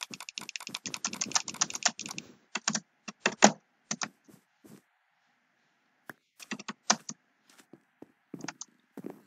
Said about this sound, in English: I'm just spamming it, as you guys could hear, mouse clicks